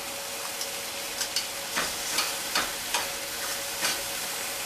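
Red peppers sautéing in a hot pan alongside scallops give a steady, close sizzle, broken every half second or so by soft scrapes and stirs of the utensil.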